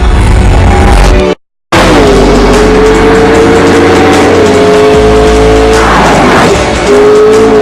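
A sports car on Pirelli tyres accelerates hard, its loud engine note climbing steadily in pitch through the gears, with a brief cut in the sound early on and tyre noise underneath.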